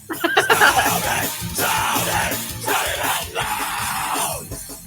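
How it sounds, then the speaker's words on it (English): A loud crowd yelling and shouting together at a rock concert, a dense, sustained roar of many voices close by with a few sharper cries at the start. "They are shouting, and it's quite loud."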